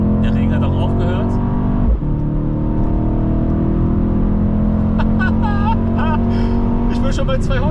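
A Mercedes C63 AMG driving on a stretch of Autobahn after rain: a steady, loud engine drone heard from inside the car with tonal whine and gear-related pitch sweeps, people talking over it.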